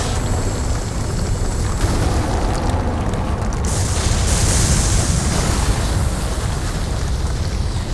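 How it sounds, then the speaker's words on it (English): A walkway in the visual novel game Tsukihime rumbles and breaks apart, a loud, continuous low roar with crumbling noise that swells midway and carries on throughout. "the entire walkway lets out a rumbling groan of resentment and disintegrates"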